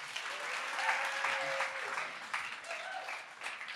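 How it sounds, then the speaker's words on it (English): An audience applauds to welcome two speakers at a tech talk, a steady moderate wash of clapping throughout with a faint voice and tonal noise underneath. "please join me in a round of applause and welcome Steve and Sam"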